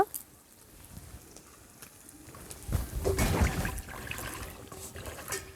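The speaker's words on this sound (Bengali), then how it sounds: "আমি জল দিয়ে ধুয়ে নিচ্ছি, জল দিয়ে ধোয়ার পর কেটে নিচ্ছি" Vegetables are rinsed under running water, with a quiet trickle swelling into a louder, splashy rush partway through before easing off.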